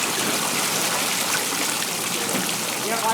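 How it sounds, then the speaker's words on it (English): Water pours and splashes steadily into the hull of a 10.5-liter racing jet boat, leaking from the packing, a continuous close gushing rush without a break. "I got water pouring in the boat"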